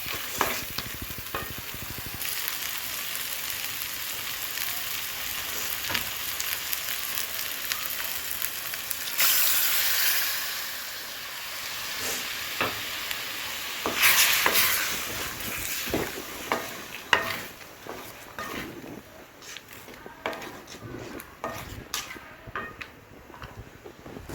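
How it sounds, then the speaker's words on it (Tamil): Village-style dried fish curry is stirred in a sizzling pan after water is added, with a steady frying hiss and scattered scrapes and clinks of a utensil, close by and without talk. "தேவைக்கேற்ப தண்ணியை ஊற்றி நல்லா கிளறி விட்டுக்கலாம்"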